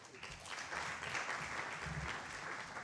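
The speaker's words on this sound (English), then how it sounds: "give him a round of applause as he comes" An audience applauds to welcome the chief guest, the managing director of Kenya Oracle, at a student-organized event; steady, dense clapping fills the room without pause from start to finish.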